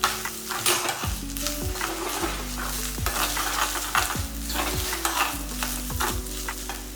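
Coconut and tamarind are sautéed in ghee with a close, steady sizzle, punctuated by rhythmic scraping strokes of a ladle against the pan, with no voices.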